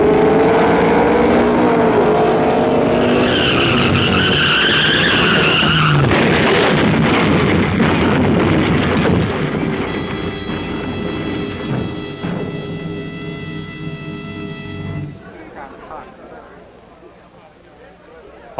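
A funny car at a 1969 drag race crashes out of control, with a loud roaring engine and skidding, then a fading rumble. A narrator talks over much of it, and the sound is old and restored.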